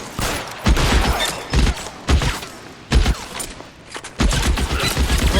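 Rapid bursts of gunfire from a shootout in the video game L.A. Noire, loud repeated volleys with short pauses between them, close and punchy with low thuds.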